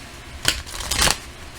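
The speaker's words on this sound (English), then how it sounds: "I shuffle these a lot because, and I shuffle them upright." Two quick riffles of tarot cards being shuffled upright, short crisp bursts about half a second apart, close and alone in a quiet room.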